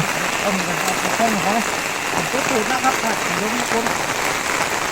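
Steady rain hisses and patters on a surface, a dense, continuous wash with a voice speaking faintly underneath.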